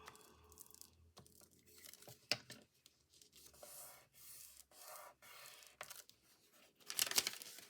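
Paper is cut for a journal, giving soft intermittent snips, rustles and crinkles close by, faint and scattered, with a brief louder crisp rustle near the end.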